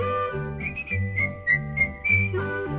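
A tune is whistled in bright, bouncing notes over a steady instrumental backing, close and clear.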